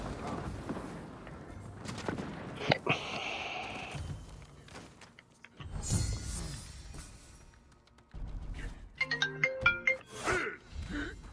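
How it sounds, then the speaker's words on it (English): A phone alarm or ringtone chimes in a short repeating melodic burst near the end, after stretches of game sounds such as gunfire and effects, with some talk in the background. "That's my alarm."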